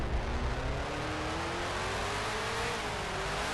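A vintage Grand Prix racing car engine in the Grand Prix Legends simulator drones steadily with a slowly rising pitch, heard alone at moderate level.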